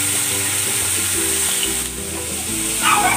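Pork liver frying in a pan gives a loud, dense, continuous sizzle close up, with no voices over it.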